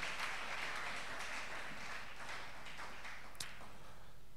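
A church congregation at a missionary worship service applauds in acclamation of Jesus, with dense, steady clapping that holds at an even level throughout and no voices over it.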